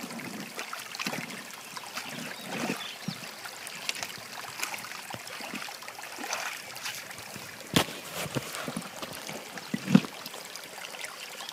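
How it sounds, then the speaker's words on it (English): Water runs steadily through a sluice box set in a small creek, a continuous trickling, splashing flow with scattered knocks and clunks as rocks wash through, heard close and alone with no talk. "we'll just let this water run for a few minutes."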